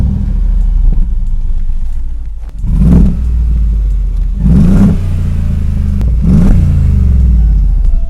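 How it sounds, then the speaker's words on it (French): A Mercedes G63 AMG's engine fires up and idles with a deep, close rumble, then revs sharply three times, each blip swelling loud and dropping back to the heavy idle. "c'est de le démarrer et d'entendre un petit peu le bruit"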